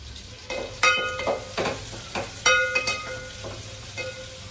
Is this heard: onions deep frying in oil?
yes